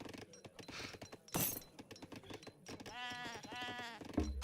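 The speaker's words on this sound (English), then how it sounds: "Oh, my sheep!" Sheep in a strategy video game give a short wavering bleat amid clicking interface sounds and busy game noise, heard near and fairly faint.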